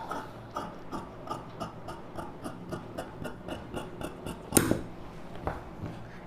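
Scissors cutting through the front neck of blouse lining fabric, a steady run of rhythmic snipping clicks, close and fairly quiet, with one louder sharp snip near the end.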